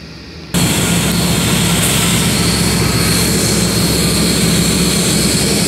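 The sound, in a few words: Union Pacific freight train engines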